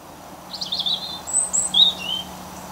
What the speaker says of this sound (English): You can hear the birds singing up there.